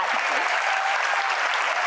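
A studio or hall audience applauds in a steady burst of clapping that runs throughout at an even, fairly loud level.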